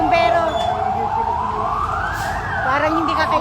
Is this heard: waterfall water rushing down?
no